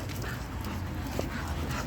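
A dog makes soft whimpering and yipping sounds during an outdoor walk, faint and close over a steady background hum, with brief low vocal noises and no clear barking.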